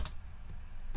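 A computer keyboard clicks in a short quick burst of a few keystrokes, close and fairly soft, with no talking.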